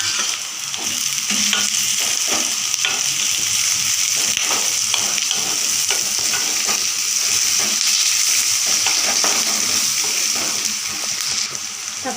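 Onion, curry leaves, green chili and crushed garlic frying and being stirred for a dried-fish thokku, giving a loud, steady hiss and crackle with repeated scraping strokes throughout, close up, with no talk.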